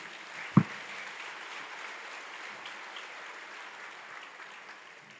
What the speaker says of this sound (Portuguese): Você pode dar um aplauso bem forte a Jesus.